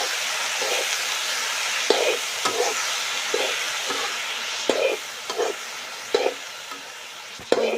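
Chopped banana flower sizzles and hisses steadily as it fries in a pan with fish, punctuated by a regular series of scraping stirs and clinks from a spatula, close and fairly quiet with no talk.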